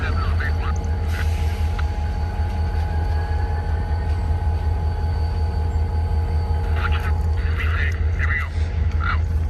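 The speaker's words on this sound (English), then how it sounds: "This Intermodal on the inside track's pulling out." A BNSF intermodal freight train pulls out of a yard on the inside track, rumbling steadily with a low diesel drone and ongoing rail noise, a few squeals and clanks rising near the end.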